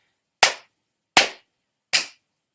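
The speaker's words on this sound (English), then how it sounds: "you're going to clap and count the rhythms once" Three sharp, loud hand claps land at an even, deliberate pace, each ringing out alone against silence in an elementary music lesson.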